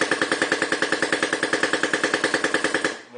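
Smartparts Urban Ion paintball gun firing a rapid, evenly spaced burst of about thirty close, loud pops in three seconds, then stopping abruptly.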